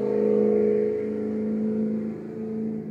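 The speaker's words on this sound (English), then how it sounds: "That was a very loud car that just passed by." A loud car with a powerful motor passes close by, its engine drone swelling and then easing away as it goes, with no voices over it.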